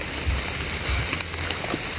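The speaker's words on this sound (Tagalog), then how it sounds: "kasi malakas yung ulan" Heavy rain pours steadily on a surface near a river crossing in the Philippines, a dense continuous hiss with scattered louder drops and low rumbles, no voices.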